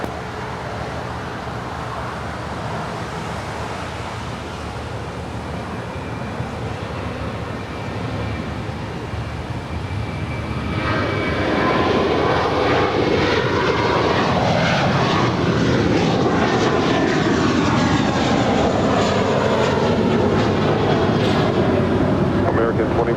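Jet airliner taking off from runway 25 right at LAX, its engine roar building from a steady distant rumble to a loud, sustained spool-up with rising, shifting tones, while radio chatter from air traffic control runs over it.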